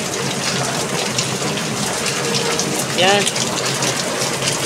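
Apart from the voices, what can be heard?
heavy rain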